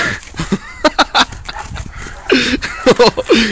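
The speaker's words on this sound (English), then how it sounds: "Oh, he's hurt another dog." A hurt dog whimpers during a dog fight, with short yelps and whines mixed with scuffling and barking bursts, close and loud, alongside other animal noises.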